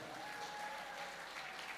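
An audience applauds at the launch of a drama series premiere, a dense, even wash of clapping heard from a distance, continuous and fairly soft throughout.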